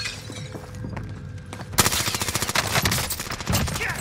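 Video game gunfire crackles in a fast, dense burst, loud and near, with sharp repeated shots following a quieter stretch of game ambience.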